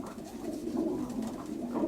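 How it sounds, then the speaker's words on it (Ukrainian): Domestic pigeons in a loft coo close by, soft rolling low calls repeating in a steady, murmuring rhythm across the whole moment, with no voices. "Оце голубок світлий мій."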